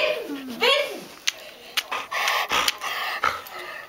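A dog pants close by in quick, breathy bursts, opening with a brief whining note, and a faint voice is heard in the background.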